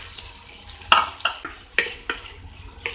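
Tomatoes hitting a hot pan of ginger garlic paste, a soft continuous sizzle broken by sharp clinks and scrapes of a spoon stirring against the metal, close and fairly loud with no talk.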